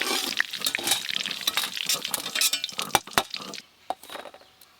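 Fried bitter gourd slices are lifted out of hot oil, with a quick run of metallic clinks, scrapes and faint bubbling that trails off into near quiet.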